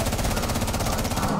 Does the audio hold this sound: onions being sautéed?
no